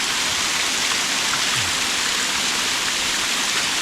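Waterfall at Wat Pa Lelai forest temple near Vientiane, Laos, gives a constant, loud, even rushing roar of falling water with no pauses or voices.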